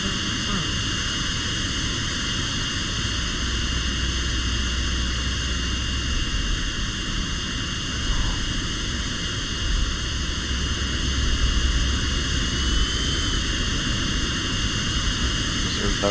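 Simulated CRJ700 jet engines spooling at takeoff thrust, a steady, loud broadband roar with a high whine, unchanging throughout with no talk.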